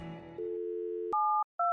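A telephone dial tone from the video game Thimbleweed Park sounds alone, a steady hum followed by two short clear beeping tones with a brief gap between them.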